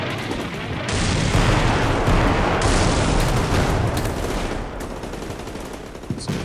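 Sustained gunfire from the military video game Combat Mission: Black Sea, a dense continuous rattle of rifle and machine-gun fire with heavy booms mixed in, loud and steady throughout.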